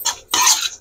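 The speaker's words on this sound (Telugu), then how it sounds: "కొంచెం స్పీడ్ గా తిప్పుకుందాం అండి." A spoon stirs chicken fry in a pan: two quick scraping strokes, a short one followed by a longer, louder one, close and bright with a metallic, gritty texture, alone without any voice.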